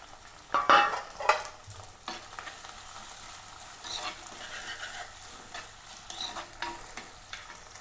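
Ginger, garlic, onion and green chilli hit a hot pan and fry with a bright, steady sizzle, with some scraping stirs early on, close by and without talk.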